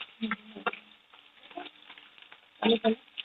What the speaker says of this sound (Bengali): এই যে মাছটা ভাজছি, ভেজে খালি ভালো করে নেবো।